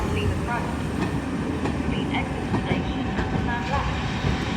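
A West Coast Railways class 47 diesel runs past at York on the East Coast Main Line, a steady broadband rumble and rolling wheel noise continuing throughout with faint bird calls on top.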